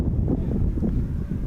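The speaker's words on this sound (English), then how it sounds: "Strong gust coming in from left." A strong wind gust sweeps across a college baseball field during an NCAA game, heard as a steady, close, low rumbling buffet against the microphone that stays loud for the whole moment.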